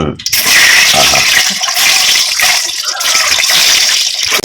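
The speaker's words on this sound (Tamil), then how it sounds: "இப்போ அந்த முட்டையை போட்டு பொரிச்சு எடுத்துக்கலாம்." Eggs frying in hot oil for a North Indian style egg curry served with idli, giving a loud, steady, hissing sizzle that runs unbroken throughout.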